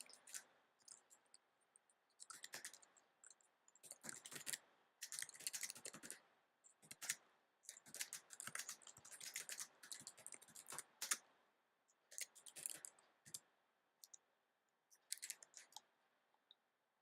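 Typing on a computer keyboard while setting text in an image editor, bursts of quick close clicking keystrokes separated by short pauses, fairly faint and alone.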